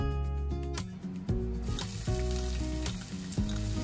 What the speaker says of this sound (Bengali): তেল গরম হয়ে যাওয়ার পর আদা রসুনটা দিয়ে দিচ্ছি